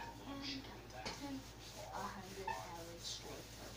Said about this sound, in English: The spot that's like sticky greasy, I just rub it a couple of times.